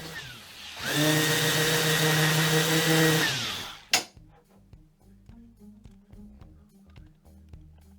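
A power sander works a painted wooden top: a loud, steady whirring motor runs for a couple of seconds, then winds down, followed by a hard knock and quiet workshop handling noises.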